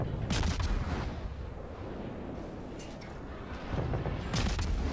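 Heavy naval gunfire from a Khabarovsk destroyer in World of Warships, with loud booming salvos at the start and end over a continuous rumbling battle roar.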